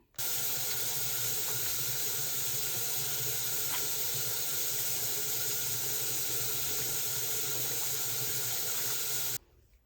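Tap water running steadily into a sink while a face is rinsed during a nighttime skincare routine, a constant close splashing hiss that starts and stops abruptly.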